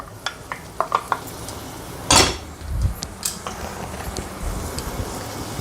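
Carrot and capsicum are stirred in hot ghee in a pan, giving a soft sizzle under clinks and scrapes of a spatula against the metal, with one louder clatter midway.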